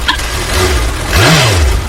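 A motorbike engine revs close by, the low drone rising and falling in a swelling pitch sweep over a steady idle rumble, fairly loud, with no talk over it.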